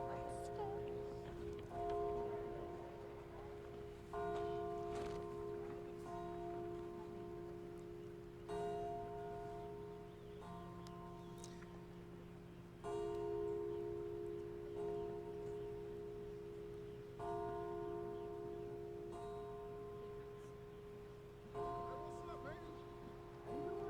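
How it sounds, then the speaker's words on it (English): Church bells ring out at a memorial service honoring a police officer, with slow, regularly spaced tolls whose resonant tones hang and decay, heard at a distance beneath faint outdoor ambience. "you can hear the church bells ringing"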